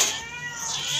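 A cat meows loudly and steadily, one drawn-out wavering cry close by with no talking over it.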